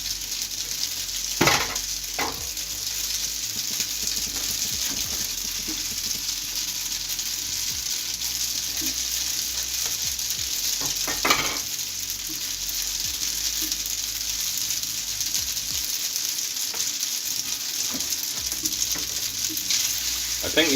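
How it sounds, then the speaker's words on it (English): Green onions hiss and crackle in hot oil in a pan, a steady close sizzle broken by a few sharp stirring scrapes and clinks, with no talking. "I'm going to add the green onions now."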